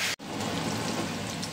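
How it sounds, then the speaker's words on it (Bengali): Fish frying in a pan of spattering hot oil, a dense, loud crackling sizzle like heavy rain after a brief cut at the start, with sharp pops scattered through it and no speech. "ভীষণ ভয় লাগছে, দুমদাম ফুটছে দেখো"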